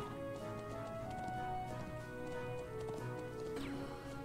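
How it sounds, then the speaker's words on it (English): Horse hooves clip-clop at a steady riding pace in the Trails of Cold Steel video game, heard alongside continuous game music with no talk. "All right, back on the horse we go."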